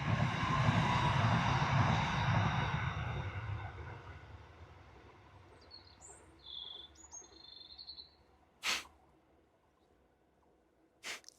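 A train passes outdoors, a loud broad rumble at first that fades steadily into the distance over several seconds, leaving quiet with scattered bird chirps and a couple of brief knocks.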